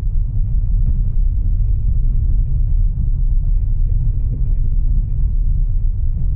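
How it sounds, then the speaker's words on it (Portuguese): Tire roar from a 2020 Hyundai HB20S Diamond Plus 1.0 Turbo rolling over polyhedral stone paving, heard inside the cabin as a loud, continuous low rumble with a slightly uneven texture, with no talking. "Você percebe o rodar né, dos pneus que invade um pouco a cabine"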